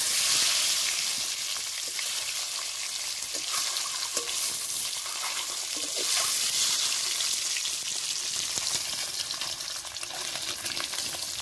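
Eggs fry in hot oil in a pan for a Bengali egg curry, producing a loud, continuous sizzle with bubbly crackle and occasional scraping stirs that carry on throughout.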